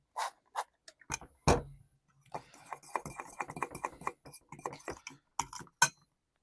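A mackerel sausage mixture with oil is stirred close up, giving scattered clinks, taps and soft wet scrapes in an irregular rhythm, quiet overall with short pauses.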